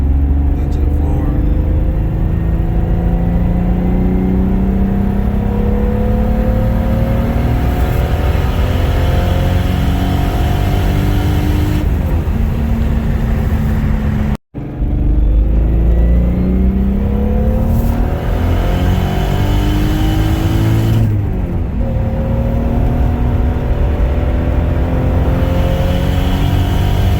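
A big-turbo Toyota 7MGTE car accelerates hard at full throttle, heard from inside with engine roar climbing through the gears in rising sweeps, a brief drop-out midway, then continuing loud and steady.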